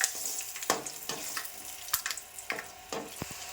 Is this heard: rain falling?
no